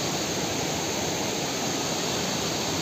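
Waterfall in dense forest at Jim Corbett, a steady broadband rush of falling water, loud and unbroken from start to finish, with no voices.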